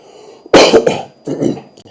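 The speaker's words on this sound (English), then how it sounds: "Excuse me, I've got a bit of cough." One person gives a harsh, close cough, then a second, softer cough follows a moment later, with no talking in between.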